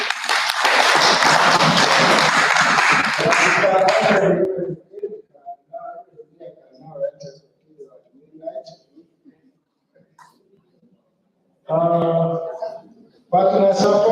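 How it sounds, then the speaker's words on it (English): Audience clapping for the security team at a Karamoja technical team meeting, a strong burst of indoor applause that fades after a few seconds, followed by speech. "So I hope the next clap for the security team."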